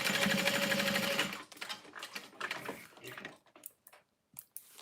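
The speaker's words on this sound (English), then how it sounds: "you're just gonna sew right next to the Peltex" A sewing machine runs in a steady, fast buzzing stitch for over a second as it sews beside stiff Peltex interfacing, then stops, leaving scattered soft handling clicks and brief pauses.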